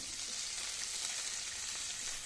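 Onions fry in a pan, giving a smooth, even, hissing sizzle that stays fairly quiet and steady throughout, with no speech.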